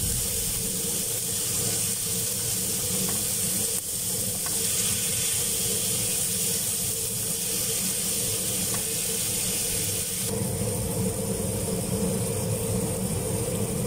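Bitter gourd slices hiss and sizzle in a hot pan as they are stirred, a dense, steady frying hiss that stays loud and close throughout with faint scraping underneath, no voices over it.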